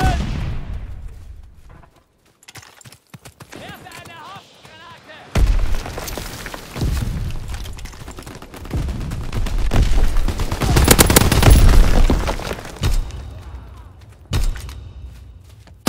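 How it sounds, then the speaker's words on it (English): Strafing-run gunfire in a Call of Duty WWII battle: bursts of rapid shots and heavy booms build over the clip, loudest near the middle, with voices talking over the combat. "Strafing run inbound."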